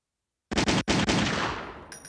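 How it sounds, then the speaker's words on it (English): A burst of rapid gunfire comes from the Secret Agent Alisha shooting game: loud, close automatic shots with one brief break, then a fading echo and a faint electronic tone at the end. "Press the fire button for shooting enemies."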